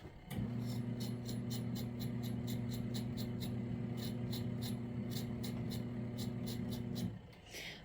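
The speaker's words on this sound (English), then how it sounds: "I am going to go ahead and cut up these carrots as much as I can" A knife cuts carrots for a carrot and potato soup, giving a steady run of quick, evenly spaced strokes close by over a constant low hum from a pot of water on the stove.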